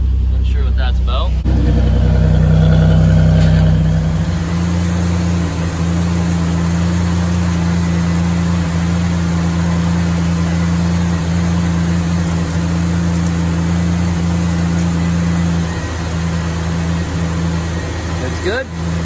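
A Chevrolet Camaro engine idles steadily after more than ten years in storage, a low, even mid-pitched hum with a constant tone, close by and loud, with people talking over it.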